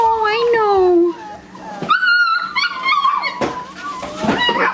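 Puppies gathered at the front of their pen whimper and yip in high, wavering cries, close and fairly loud, with a person talking softly among them.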